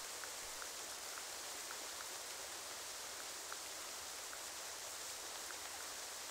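Rain falls in a video game as a soft, steady wash of patter, faint and even throughout with no voices.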